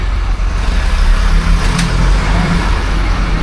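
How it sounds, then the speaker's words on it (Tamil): A bus from Sathyamangalam rolling past on a forest road near a hill village, a loud low engine rumble and road noise holding steady throughout. "சத்தியமங்கலத்துலேருந்து வர பஸ் இது"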